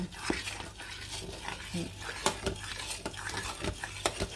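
A spoon stirs boiling strawberries and sugar in a cooking pot, with repeated close metallic scrapes and clinks against the pot over a soft bubbling sizzle.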